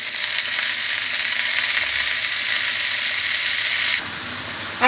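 Spinach greens hit a hot pan of salted frying eggplant with a loud, continuous sizzle and steam hiss that drops suddenly near the end, followed by a brief clatter.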